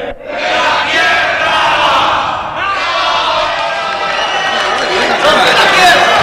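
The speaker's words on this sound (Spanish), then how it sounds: "Todos aplaudían y vitoreaban a los recién llegados." A large crowd cheers and applauds the arrival of newcomers in a radio drama scene, a loud continuous roar of clapping and shouting voices that swells toward the end.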